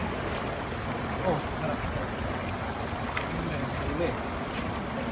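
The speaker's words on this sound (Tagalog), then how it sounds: "pagbuhos po ng malakas na agos" A steady, broadband rush of a strong river current during a water release in Taiwan fills the scene, continuous and close, with a brief voice exclaiming once over it.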